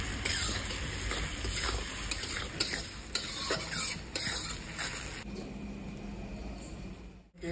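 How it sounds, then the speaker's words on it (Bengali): Onions with salt sizzle and fry in a pan, a steady bright crackle with the scrape of stirring, close and continuous, fading slightly near the end. "লবণ দিয়ে দেবো, পেঁয়াজ যাতে তাড়াতাড়ি ভাজা হয়।"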